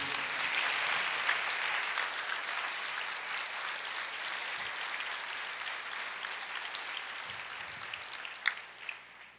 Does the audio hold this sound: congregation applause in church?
yes